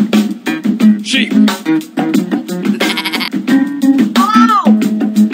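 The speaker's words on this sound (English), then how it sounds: "Sheep." Sheep bleats ring out repeatedly over a thumping disco-style beat and music, loud and close, with voices mixed in among the animal calls.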